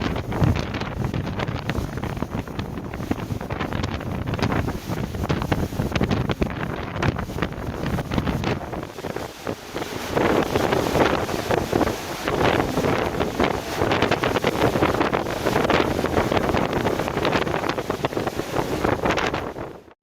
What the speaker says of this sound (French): Сейчас на море шторм.